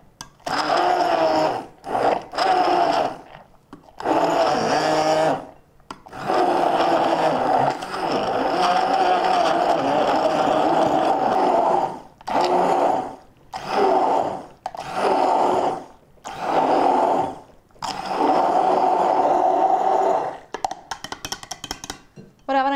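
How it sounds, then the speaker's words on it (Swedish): An immersion stick blender whirs through a green smoothie made with soy milk, running loud in a series of sustained bursts separated by short pauses. "Jag tänkte jag vill bara ta och mixa ihop det här med stavmixern."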